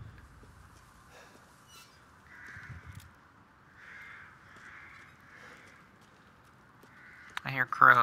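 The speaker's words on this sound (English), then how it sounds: "I hear crows." Crows caw in the Resident Evil Village video game, a few harsh calls repeating at a moderate distance over a quiet ambient background, with a louder in-game sound near the end.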